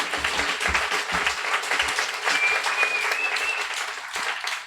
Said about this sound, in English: Warm round of applause for Skip.